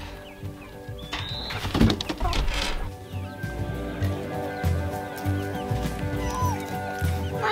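Chickens cluck and chatter nearby in an irregular stream, with a few sharper calls and some background rustling.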